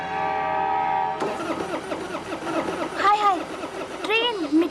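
Tractor stalled on a railway line after running out of fuel, its engine cranking without catching, a steady mechanical whir and churning that starts abruptly, with excited voices shouting over it.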